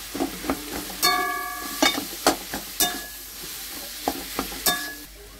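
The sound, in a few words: mixing boiled mashed potato into taco filling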